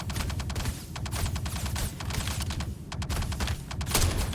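Rapid bursts of automatic weapon fire in the video game Star Citizen, dense crackling volleys repeating through the whole stretch, fairly close and loud with no talk over them.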